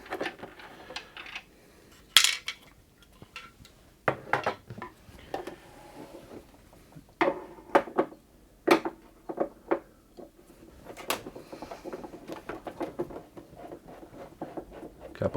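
Small screws being backed out of the faceplate cover of a noisy sewing machine make scattered light metallic clicks and taps with quiet pauses between, close and crisp, with no talk.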